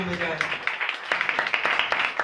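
Congregation at a Hindi-language Christian worship service clapping in a quick, uneven burst of claps, fairly close and loud, running for a couple of seconds.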